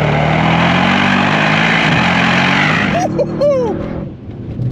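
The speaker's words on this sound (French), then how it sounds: "Les petits retours d'échappement qui font plaisir." Mercedes-AMG GT Brabus 800 exhaust popping and crackling as the engine note drops off, a few sharp bursts near the end after steady loud engine drone.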